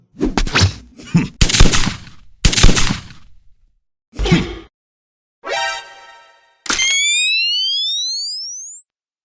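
Cartoon pellet gun shots in a Filipino animation: a series of sharp, loud separate bangs with gaps between them, followed by a ringing, rising whistling tone that fades out.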